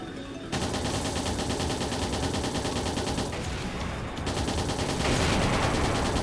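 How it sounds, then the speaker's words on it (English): Rapid, continuous automatic gunfire in the video game Trails in the Sky the 3rd, shooting down missiles, loud and sustained with a brief dip midway before resuming at full intensity. "I can even shoot down the missiles"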